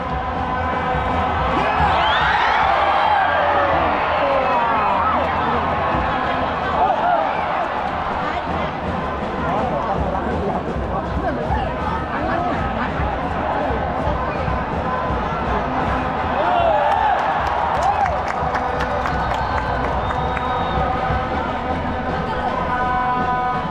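Dense crowd cheering and chanting fills a stadium at the Laos vs Philippines football match, a steady loud roar of thousands of voices with swells of shouting throughout.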